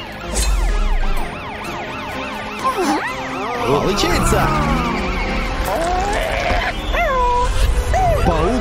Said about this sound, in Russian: Полицейская машина. Воспользуйся сиреной, чтобы тебе уступили дорогу.